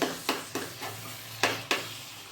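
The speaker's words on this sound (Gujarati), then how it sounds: "રીંગણાનું પલ્પ છે એ બધું આમાં એડ કરી દઈએ અને બરાબર મિક્સ કરી દઈએ આપણે" Roasted eggplant pulp being mixed in a pan, a soft low sizzle broken by several sharp scrapes and taps of a spoon against the pan, close and fairly quiet.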